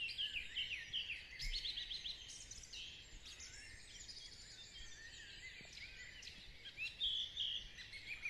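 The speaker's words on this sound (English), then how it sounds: "Whilst we listen to those birds" Many birds chirp and sing in overlapping calls, a steady busy chorus of high tweets with no talking.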